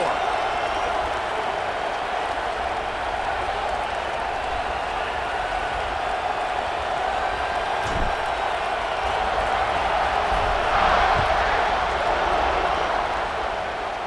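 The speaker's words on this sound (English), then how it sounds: "this crowd is buzzing after that last score" A stadium crowd buzzes with sustained cheering in EA Sports College Football 26 after a score, a broad steady roar that swells slightly near the end, with game commentary over it.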